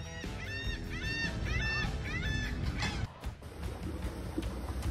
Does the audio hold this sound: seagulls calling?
yes